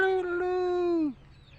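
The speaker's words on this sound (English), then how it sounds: "Go on, do your cock-a-doodle-doo." A farm rooster crows once, a loud, drawn-out, steady note close by that drops and trails off at the end, followed by quiet outdoor background.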